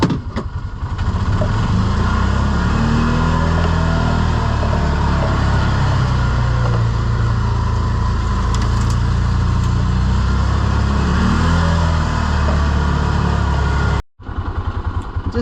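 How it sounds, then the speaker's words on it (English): A Polaris Ranger SXS side-by-side engine idles roughly with a suspected fuel problem, a loud, close, continuous uneven rumble that holds steady before a brief dropout near the end. "Kind of idling a little funny,"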